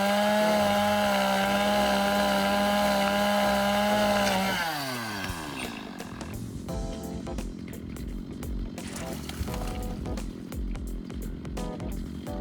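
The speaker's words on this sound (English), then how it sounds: "So let's do the chainsaw thing." A loud chainsaw whines steadily for about four seconds, then bogs down as it bites through a tall fruit tree branch during pruning, followed by cracking, rustling and clattering of falling branches.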